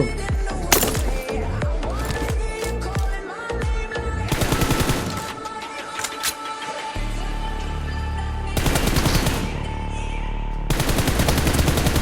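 Gunfire in a mobile shooter game's team deathmatch: loud bursts of automatic fire and sharp single shots crackle in clusters, with brief lulls between volleys and faint talk underneath.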